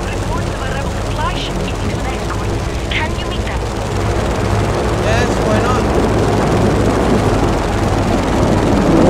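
A jet aeroplane skims low in the video game Just Cause 3, its steady engine roar droning loudly throughout while a player talks over it.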